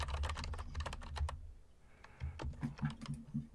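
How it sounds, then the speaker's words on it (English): Someone types on a computer keyboard in quick bursts of close, crisp key clicks, with a short pause midway before a second flurry, over a faint low hum. "She's typing at us."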